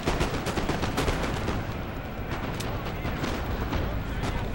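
Artillery and musket fire in Napoleon Total War, a steady dense rumble of distant volleys and booms with scattered sharper cracks throughout, continuous and fairly loud.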